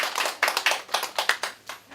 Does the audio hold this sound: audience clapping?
yes